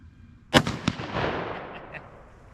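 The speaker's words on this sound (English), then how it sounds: "Love shooting 2-liters." A Ruger American .204 rifle fires at 2-liter bottles outdoors, one sharp loud crack followed by a second report and a long rolling echo fading into the distance.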